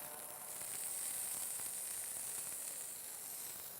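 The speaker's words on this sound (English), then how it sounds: "So I'm going to quickly sear these squabs" Squabs searing in a hot pan, a steady, even sizzle that holds at a moderate level throughout without pauses.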